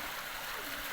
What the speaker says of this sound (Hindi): ये पानी चश्मों का आ रहा है क्योंकि अभी काफ़ी ऊपर से आ रहा है।